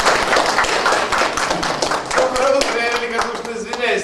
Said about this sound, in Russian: Ну, по-вашому, може, аплодисменти, так?